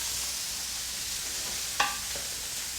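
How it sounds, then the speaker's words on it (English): A burger patty sizzles in a hot cast iron pan with a steady hiss, broken by a brief clack from a utensil, and no one talking. "Oh, listen to that sizzle."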